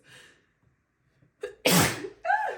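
A single loud, sharp sneeze close to the mic, preceded by a quick intake of breath and followed by a short exhale.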